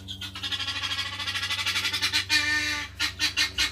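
Duck at a farm animal sanctuary giving a rapid run of nasal quacks and honking calls, close and fairly loud, in a quick rhythmic series with a few louder bursts at the end.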